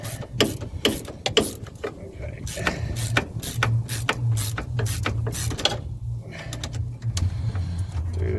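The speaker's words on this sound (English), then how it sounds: "Ratchet spanners are handy" Rapid ratchet spanner clicks in bursts as it works on the front hub of a 2004 Saab 9-3, the pawl rattling close and loud over a low steady hum, with brief pauses between strokes.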